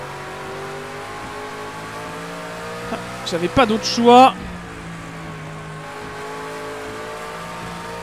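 A V8 race car engine in Project CARS 2 holds a steady drone throughout, with a brief sharp rise in revs partway through while someone speaks French over it.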